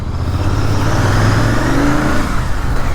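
A vehicle on a Ladakh road trip accelerating, a loud close engine drone with a steady rising rev tone and wind rush throughout, no talk.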